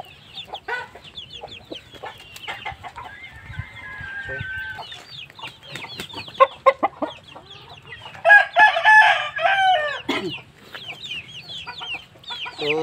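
Aseel chickens on a farm: a hen clucks repeatedly while a rooster crows loudly in long calls, with scattered cackling and other birds close by, no talking.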